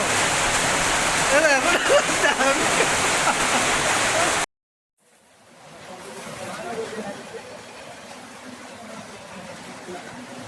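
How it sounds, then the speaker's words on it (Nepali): A waterfall roars as a loud, broad rush of falling water, then breaks off into brief silence before a softer, more distant flow of water returns and continues; no clear talk over it. "वाटरफल"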